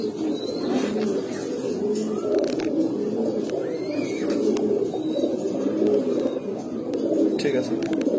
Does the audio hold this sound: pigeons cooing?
yes